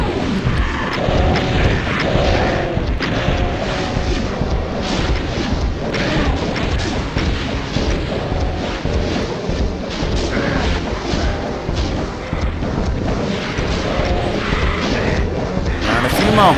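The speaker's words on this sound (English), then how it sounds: "get the rockets out, and just let her rip" Rocket launcher blasts in the shooter game Doom, The Plutonia Experiment, come as dense, repeated booms and crashes in a loud, continuous barrage with no pauses.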